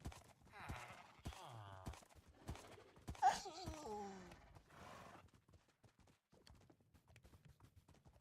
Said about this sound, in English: you can use that to get your horse to come to you